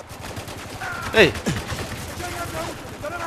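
Gunfire in the video game Spec Ops: The Line, a loud burst of rapid shots with a brief voice calling out over the in-game battle noise.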